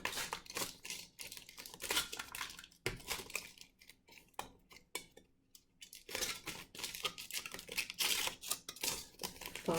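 Scissors snip and crinkle through excess aluminum foil, giving close, quiet, crackly bursts with brief pauses between the cuts.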